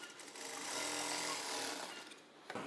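A sewing machine runs a steady, continuous stitching burst while double-stitching the shoulder joint of a cross-cut blouse, then stops abruptly near the end; no one talks.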